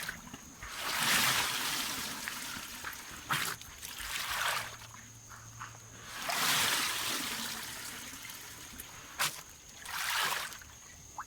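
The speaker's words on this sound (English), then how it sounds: "And swish it around for a while." Sheep fleece is swished around in a tub of rinse water, giving repeated rising and falling washes of sloshing and splashing in slow irregular surges, fairly close, with no talking.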